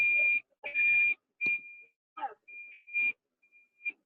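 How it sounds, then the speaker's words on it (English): Annoying electronic beeping in a room, loud, high, shrill tones sounding in short and long bursts with uneven gaps, some cut off and broken up as if over a poor connection. "Oh my gosh, that beeping."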